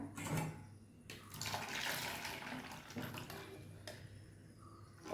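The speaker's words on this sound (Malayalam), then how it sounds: "നമുക്ക് അരിപ്പയിലോട്ട് ഒഴിക്കാം" Ragi juice poured through a strainer, a soft, steady stream of liquid splashing and trickling, with slight surges and a brief clink of a utensil, fairly faint and close.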